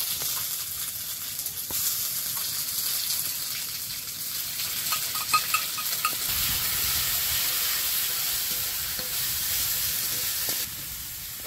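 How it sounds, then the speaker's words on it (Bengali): Onion, ginger and garlic paste frying in oil in a wok with bay leaf and five-spice seasoning, giving a continuous close sizzle with occasional stirring scrapes and a louder hiss surge midway. "এদিকে কড়াই তেল দিয়েছি, একটু 5 ফোড়ন, তেজপাতা। এর মধ্যে পেঁয়াজ বাটা, আদা, রসুন সব বাটা দিয়ে দেবো এক এক করে।"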